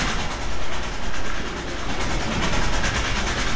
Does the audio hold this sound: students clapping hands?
no